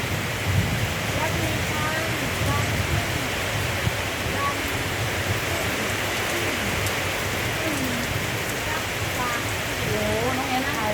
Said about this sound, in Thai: ฝนตกหนักมากนะครับตอนนี้นะครับ